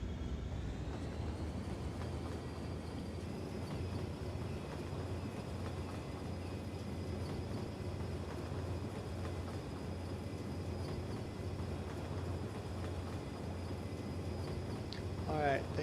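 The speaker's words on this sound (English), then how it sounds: "I want to watch the train that is coming into the city." A train rolling into the city in Cities: Skylines, a low continuous rumble of rail traffic at steady loudness with faint background tones, alone without voices.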